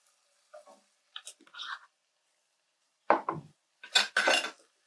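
Pork chop seasoning of salt and black pepper being stirred in a pot, a few short bursts of utensil scraping and clinking against the pot separated by silence, close and clear.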